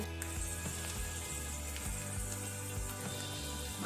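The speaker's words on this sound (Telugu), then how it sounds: "వేరుశనగపప్పు వేగించుకోవాలండి" Peanuts fry in hot oil for a Telugu uggani tempering, a constant close sizzle and bubbling that runs without a break. A steady tonal hum sits underneath.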